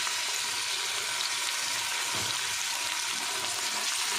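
Tomatoes drop into a pan of sizzling onions and coarsely crushed ginger, giving a steady, dense frying hiss throughout with a brief soft thud partway through.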